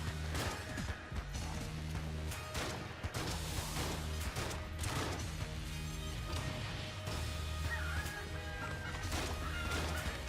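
Chicken clucks and fowl calls from the video game Enter the Gungeon, heard amid a dense, continuous game soundtrack with crashes and gunfire, no speech.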